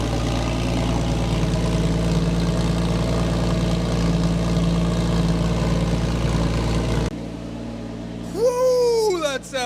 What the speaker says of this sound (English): Listen to this exhaust just at idle